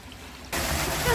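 A small fountain in the Alhambra: after a quiet start, a steady hiss of trickling, splashing water suddenly comes in close and fairly loud.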